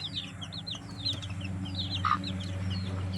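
Layer chicks cheep in quick repeated high chirps over a steady low hum, fairly close, with a faint cluck partway through.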